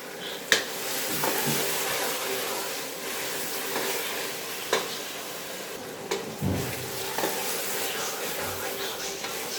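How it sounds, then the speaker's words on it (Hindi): Pumpkin and chana dal sizzle steadily in a hot pan, with occasional sharp clinks and scrapes as they are stirred. "2-3 मिनट हम इनको अच्छी तरह फ्राई करेंगे"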